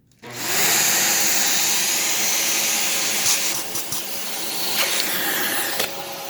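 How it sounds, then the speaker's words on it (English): A Dyson DC17 Animal dual motor upright vacuum switches on and runs with a steady, loud, airy roar that continues for several seconds, with a few small knocks and clicks over the drone. "One of Dyson's few dual motor non-ball uprights. So we'll give this a whirl."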